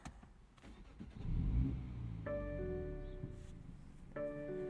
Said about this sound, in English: let's fire up this motor.